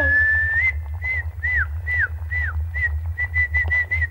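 A person loudly whistles about ten short notes in a lively run, some sliding up or down in pitch, over a steady low rumble in an animated adventure scene.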